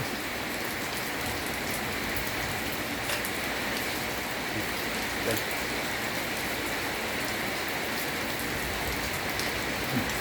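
Heavy rain pours down outdoors in a dense, constant hiss of drops striking surfaces, loud and even from start to finish with no voices.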